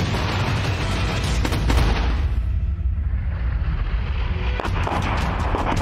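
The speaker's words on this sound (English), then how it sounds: "It's a dual mortar system that can be fit on a wide range of armored vehicles. It fires 120 mm mortar." Finnish AMOS dual 120 mm mortar system mounted on an armored vehicle firing, heavy continuous booming and rumbling with overlapping blasts and sharp cracks, loud and dense throughout with no speech.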